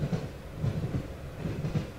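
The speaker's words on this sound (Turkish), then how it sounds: "tren sesi geliyor." Steady low rumble of a train rolling along rails in the video game The Last Door, with faint rhythmic clacks recurring every half second or so, no voices.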